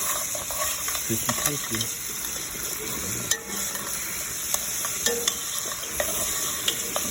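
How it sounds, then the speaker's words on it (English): Mirepoix sizzling in avocado oil and fat from beef short ribs, a steady close frying hiss broken by utensil clinks and stirring, with a brief spoken comment. "Add your mirepoix in there."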